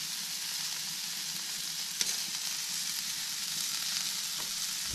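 Potatoes, asparagus and bacon searing in a hot pan give off a steady, close crackling sizzle that holds evenly throughout, with one brief sharper clink near the middle and no voices.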